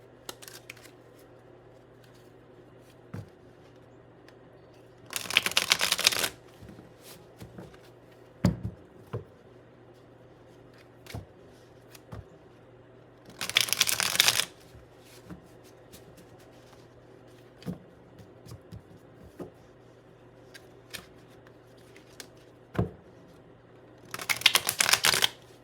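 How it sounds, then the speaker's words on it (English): Tarot cards are riffle-shuffled in three short, crisp bursts spread across a quiet room, each lasting about a second, with scattered soft taps and handling clicks in between. "I'm going to shuffle in between."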